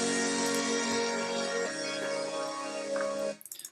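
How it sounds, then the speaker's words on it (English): A Nexus Eurobuzzer 1 synth preset playing a sustained, bright buzzing chord that holds steady and shifts pitch once partway through, then cuts off abruptly into a brief tail of noise. "So it's a Nexus Eurobuzzer 1."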